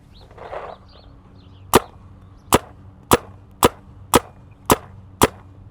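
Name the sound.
gun shooting during accuracy test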